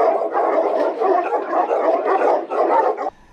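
Several dogs at a Turkish dog-breeding association bark in rapid, overlapping bursts, loud and close, continuing for about three seconds before cutting off abruptly.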